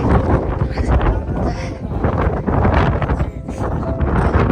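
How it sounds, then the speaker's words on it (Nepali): Strong wind buffeting the microphone in rough, uneven gusts, a loud rumbling roar that rises and falls without pause. "यहाँ त हावा चलिरहेछ कस्तो हावा चलेको"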